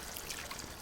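A splash of water pours into a pot of mashed pumpkin for one-pot pasta, a brief, quiet trickling rush.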